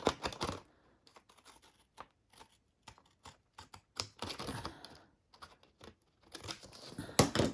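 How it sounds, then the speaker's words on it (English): Close, crisp snips of scissors cutting paper, a series of short irregular cuts separated by quiet pauses, with some paper rustling. "I just cut right where the line is."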